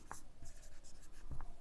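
Pen scratching across paper while working a math problem, a few short strokes over quiet room tone.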